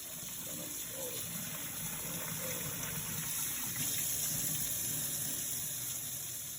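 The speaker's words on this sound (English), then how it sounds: "Run some water over it." Water gushes steadily from a tap over ackee in a kitchen, a constant close splashing rush with no talking.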